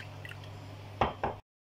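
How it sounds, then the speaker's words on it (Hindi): Food colouring stirred into water in a bowl while making halwa: a faint low hum, then two short, wet splashing bursts close by, one right after the other, before the sound cuts off. "सबसे पहले हम ये कलर डालेंगे पानी के अंदर और इसको अच्छा सा मिक्स कर लेंगे"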